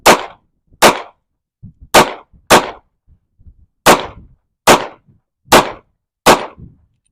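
A Glock pistol fires eight loud, sharp shots at outdoor target practice, grouped in four quick pairs with short pauses between, each crack decaying fast in windy open air.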